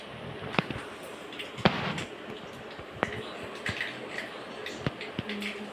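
Mustard seeds crackle and pop in hot oil while tempering for a peanut chutney, sharp scattered snaps over a low steady sizzle, close and fairly quiet.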